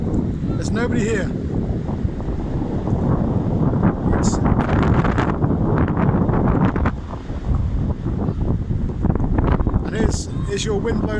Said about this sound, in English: It's blowing windy.